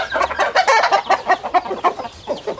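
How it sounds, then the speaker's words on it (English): A mother hen clucks repeatedly in a steady, close, fairly loud series of short calls at an off-grid homestead, with no talking. "We got a mama chicken over here."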